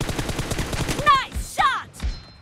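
Sharp gunshots in a PUBG Mobile team deathmatch, a quick rattling burst followed by a few louder separate shots close by, with game announcer voice callouts in between.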